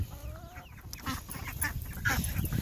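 Backyard chickens at feeding time cluck and squawk in a busy, overlapping chorus, moderately close, with rustling in the background.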